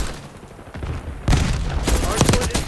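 A frag grenade blast followed by bursts of gunfire in a Black Ops 6 multiplayer hardpoint match, a sudden loud explosion then rapid crackling shots, with game voice lines over the action.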